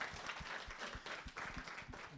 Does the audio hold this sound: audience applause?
yes